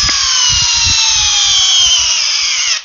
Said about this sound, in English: entry-level hammer drill.